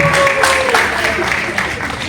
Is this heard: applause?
yes